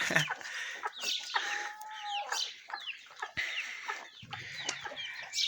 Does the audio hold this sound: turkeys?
yes